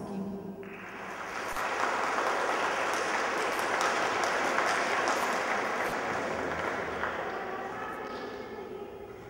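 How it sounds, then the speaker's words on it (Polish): An audience applauds at an inter-school flag-bearer honour guard competition in Poland. The clapping is dense and sustained, swelling to full strength and fading slightly at the end, with no voices over it. "A publiczność prosimy o oklaski."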